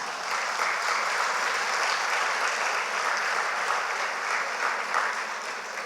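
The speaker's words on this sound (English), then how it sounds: "I want all of you to give a round of applause" Steady applause from a large crowd at an annual banquet in an ashram, a dense even wash of many hands clapping that holds at the same loudness throughout, with no voices standing out.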